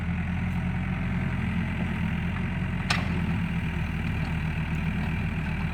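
A small Hyundai 55-7 excavator's diesel engine idles steadily and close by, with a constant low rumble and a brief sharp click near the middle.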